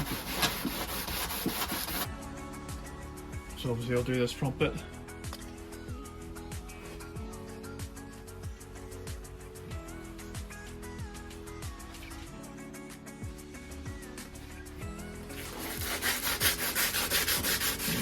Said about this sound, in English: while I'm going to be sanding it